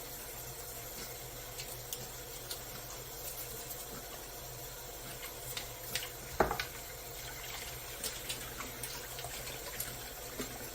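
Hot water running from a tap into a sink while tools are washed at an esthetics business, a steady low hiss of flow with a sharp clatter about two-thirds through and small knocks scattered across it.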